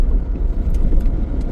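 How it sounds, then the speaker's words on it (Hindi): A car passes on a road through a jungle in the early morning dark, a close, low rumbling engine and tyre noise that stays fairly steady and loud across the short moment. "एक गाड़ी पार हुई है"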